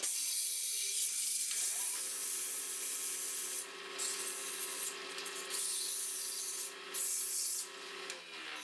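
Final polishing of a wooden leg vise handle for a workbench, a steady soft rubbing and sanding hiss with brief pauses, continuous and close.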